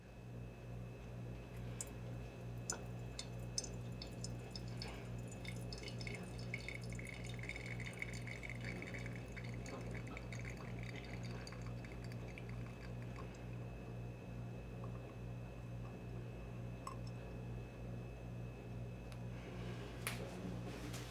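Coffee pours and drips through a Hario V60 in a single pour, faint trickling and scattered drips over a steady low hum, quiet throughout with no talking.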